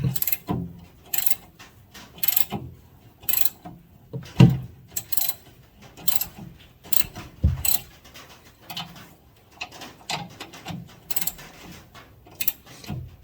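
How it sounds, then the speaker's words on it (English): 18mm socket and wrench working the lower bolt of a shock absorber on a John Deere Gator 865, giving scattered close metallic clicks and clunks in uneven bursts with quiet gaps between them. "Then use an 18mm socket and wrench. Remove the shock from the bottom."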